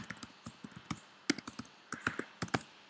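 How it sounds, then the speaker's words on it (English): Fingers typing a web address on a keyboard while building an iOS Swift app, a quick, uneven run of light clicks and taps, close and quiet. "type in our URL."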